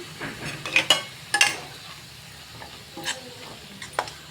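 Palak dal kichadi masala stirred and frying in a pan, with a steady soft sizzle under several sharp scraping strokes of a spoon against the metal, close up and without talk.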